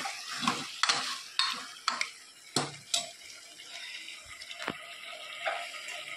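Masala being stirred into a vegetable dish in a pan, with repeated spoon scrapes and clinks against the metal over a soft sizzle, close and moderately loud.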